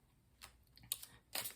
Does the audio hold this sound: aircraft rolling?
no